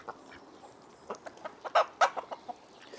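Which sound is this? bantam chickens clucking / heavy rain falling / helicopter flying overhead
bantam chickens clucking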